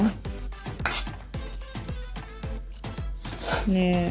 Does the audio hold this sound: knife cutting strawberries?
yes